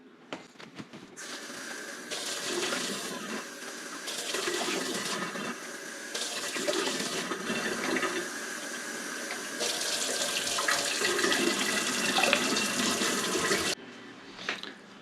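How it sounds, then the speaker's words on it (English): Hot water runs from a tap into a container while making homemade liquid laundry soap, a steady rushing splash that starts and stops in several bursts, close and moderately loud, with no talk. "first thing I need is 4 cups of hot water."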